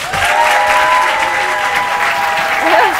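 A studio audience at a television talent show bursts into loud, sustained applause for a contestant, a dense close wash of clapping lasting throughout with faint voices and a tone in the background.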